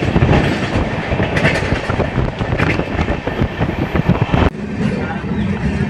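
Inside a crowded general coach of a Narasapur-to-Varanasi Kumbh Mela special train, a loud, continuous rumble and rhythmic wheel clatter fill the carriage, with voices talking over the running noise.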